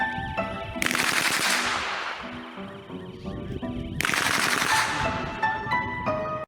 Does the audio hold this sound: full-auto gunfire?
yes